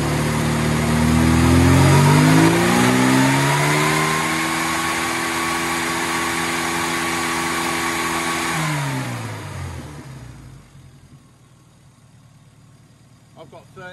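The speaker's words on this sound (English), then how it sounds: "Now if I pick the revs up" A car engine revs up, holds a steady high pitch for several seconds, then winds back down to a quiet idle.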